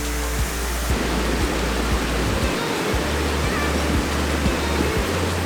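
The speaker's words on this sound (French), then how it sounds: "je suis au niveau de la cascade" Waterfall at the Cirque de Gavarnie in snowy winter conditions, a steady loud rushing roar of falling water filling the scene, with low rumbling gusts or handling thumps underneath.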